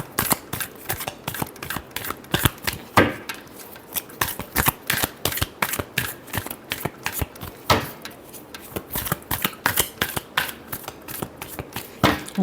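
Tarot cards are shuffled by hand in rapid bursts of crisp riffling and slapping, close and dry, continuing rhythmically throughout without speech.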